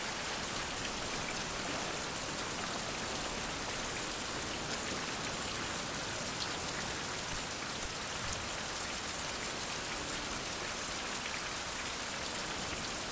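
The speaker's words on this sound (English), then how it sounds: "that timing was just as I attempted to light a torch, it started raining." Steady rain pours down in the survival video game Fountain of Youth, a dense, even hiss of drops on surfaces that runs unbroken and fairly close throughout, with no talking.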